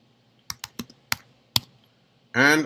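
Keystrokes on a computer keyboard as an SU command is entered on an ArcSight server, five separate clicks spread over about a second, followed by a louder, denser burst at the end.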